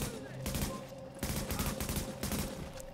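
Sustained heavy gunfire from a sniper in Tom Clancy's The Division's Dark Zone, loud and close, with repeated bursts over a dense, noisy battle backdrop.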